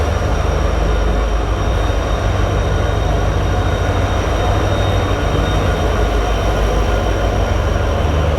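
The Sabarmati–Jaisalmer Superfast Express pulls into Jodhpur station with a heavy, continuous rail rumble and roar, loud and near, unbroken throughout.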